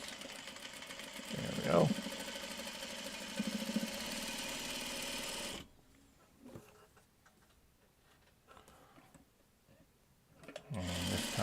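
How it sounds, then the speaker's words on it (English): A sewing machine runs steadily through fabric for about five seconds with a brisk ticking hum, then stops; a voice speaks briefly over it, and quiet talk and rustling follow. "Continue sewing on from here down."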